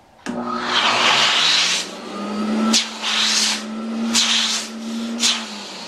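A Lemmer T-75q HVLP turbine runs close by with a loud, steady whine and broad airy rush, swelling and dropping in several bursts as airflow changes.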